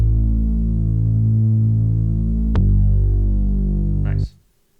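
Deep, meaty synth bass notes dropped an octave in Ableton 11 hum in long sustained tones, with one note change partway through, then stop abruptly near the end.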